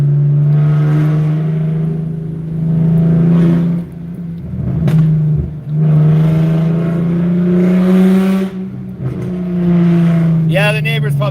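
A loud BMW E36 M3 engine drones while driving at night, holding a steady, heavy rev with brief dips as the throttle lifts between pulls, close and dominant throughout.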